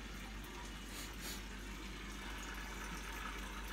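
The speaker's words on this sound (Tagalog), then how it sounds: "Yung fountain ko dito. Malakas din." A water fountain runs in a home aquarium holding goldfish, a steady gushing and splashing flow that is continuous and fairly faint, with no talking.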